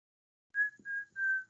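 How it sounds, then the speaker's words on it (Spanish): Three clear, steady whistled notes in quick succession, near and fairly soft, with nothing else around them. "¿Por qué ha salido el sonido del silbido?"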